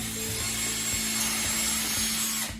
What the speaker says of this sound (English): I'm going to drill.